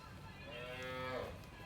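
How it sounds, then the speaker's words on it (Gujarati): Cows loose on a Gujarati farm low out in a single drawn-out moo, moderately loud and close, with a rising, harmonic tone over quiet background and no talking. "જોઈ શકો છો મહેશભાઈની ગાયો છૂટી ગઈ છે"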